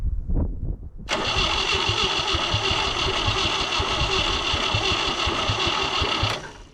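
A ZAZ-968 engine is cranked and catches, bursting into a loud, busy mechanical clatter that runs steadily for several seconds before cutting off. A few brief sounds come first, and no one speaks.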